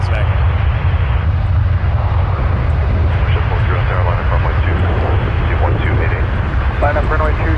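Airplane lining up on runway 23 at Toronto Pearson airport, a steady loud engine roar with strong low rumble filling the whole stretch, with talk over it.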